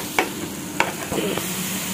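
Ginger-garlic paste fries in a pan for street-style peas chaat, making a continuous sizzle broken by a few sharp scrapes as a spoon stirs it.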